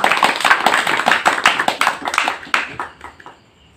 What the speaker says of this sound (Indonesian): Tepuk tangan untuk Rumah Sastra Sragen